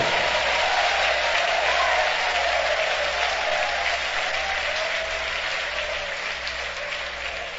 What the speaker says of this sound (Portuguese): Batem palmas e glorifiquem ao Senhor.